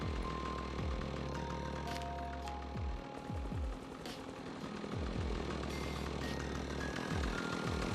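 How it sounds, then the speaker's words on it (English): A chainsaw in the zombie survival game Project Zomboid drones and revs steadily, with repeated pitch swoops as the engine surges, loud and continuous across the whole stretch among other game noise. "Oh, he's got a chainsaw."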